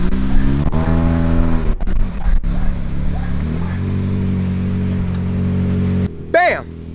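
A 1.8L Mazda Miata idles and creeps forward to park, its low engine hum steady under a voice speaking close by, before the engine cuts near the end.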